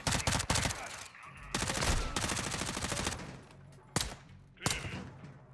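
Video game gunfire in Call of Duty Modern Warfare 2, loud rapid bursts of automatic fire in several long volleys, then a few single sharp shots.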